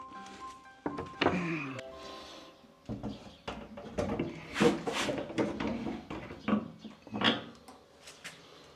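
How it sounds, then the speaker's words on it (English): An old wooden door being set into place, giving a few hollow wooden thunks and knocks at a close distance, with scraping handling noises between them and a voice speaking briefly. "So I put this door in place and see what it looks like."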